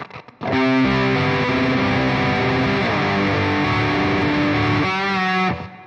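A loud electric guitar through a distortion pedal rings out a sustained chord that is held, then shifts, over a buzzing, saturated tone.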